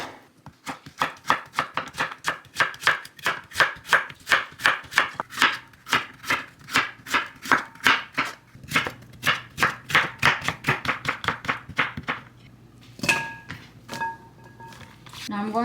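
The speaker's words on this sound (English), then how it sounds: "And then I'm going to cut it into about 1 centimeter thick" A knife chops Korean winter radish (mu) into thick discs on a cutting board. The steady, close thuds repeat rapidly, pause briefly near the end, then resume with a few more cuts.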